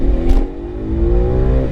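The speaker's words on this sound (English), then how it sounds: "not to mention the exhaust, which is also Dinan. Yeah, we can hear that one." A 2011 BMW M3 with a Dinan exhaust and mufflers revs loud and close, its engine note climbing in a rising tonal sweep after a brief rough burst, with no talk over it.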